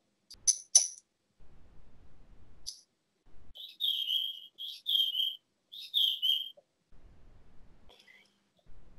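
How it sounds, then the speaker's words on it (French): Birdsong carried over a phone line: several bright, whistled chirping phrases repeat in quick bursts, fairly clear and close, with short quiet gaps between them and no talking. "On entend beaucoup les oiseaux."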